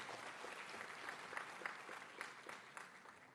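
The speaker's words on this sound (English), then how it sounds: "give a big round of applause" A convocation audience at IIT Hyderabad breaks into sustained applause, a dense, steady wash of many hands clapping with scattered sharper claps standing out, fairly close and even throughout.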